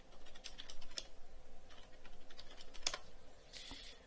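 Rapid keystrokes on a computer keyboard enter a root password during a FreeBSD install, a soft close clatter of irregular taps lasting a few seconds, ending with a firmer key press.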